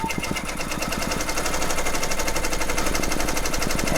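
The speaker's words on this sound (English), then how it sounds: "Now we're just gonna let it stitch out and finish that satin stitch" An embroidery machine stitches out a satin stitch on a craft project, giving a steady, fast mechanical rattle of rapid needle strokes that runs loud and unbroken throughout, with no talking.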